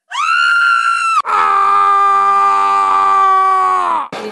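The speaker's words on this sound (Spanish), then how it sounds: "Abrió la boca y profirió un grito muy agudo." A woman's piercing, high-pitched scream in a Spanish-language student radio drama, a short shriek followed by a long sustained cry of about three seconds, very loud and close.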